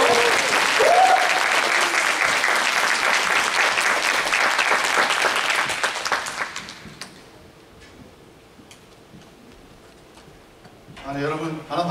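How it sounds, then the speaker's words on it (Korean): A congregation at a Korean youth Sunday worship service in Auckland claps in loud, sustained applause for about six seconds, then the clapping fades into a quiet room before a voice begins at the end. "박수 한번 주세요."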